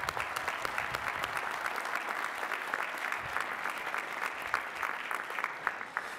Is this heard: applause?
yes